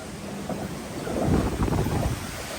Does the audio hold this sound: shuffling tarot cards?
no